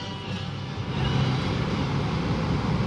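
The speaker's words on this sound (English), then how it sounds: "So I'm driving in traffic." A car drives through city traffic, heard from inside as a steady, close engine and road drone that rises slightly partway through, with no talking.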